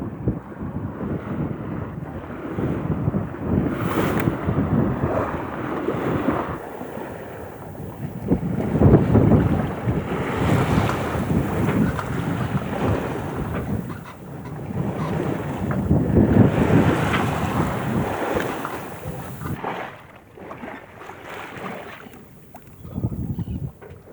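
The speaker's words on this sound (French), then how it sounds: "on a un vent de nord qui nous pousse auprès directement sur Belle-Île" Strong north wind buffets a sailboat at sea bound for Belle-Île, with steady broadband gusts and wind noise on the microphone, rising and falling in surges over the wash of waves against the hull, no voices.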